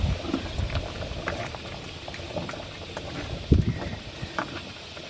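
A pot of corn rice boiling on the stove, a steady bubbling burble with occasional louder pops and stirring knocks, heard close with no talk.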